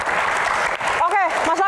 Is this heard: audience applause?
yes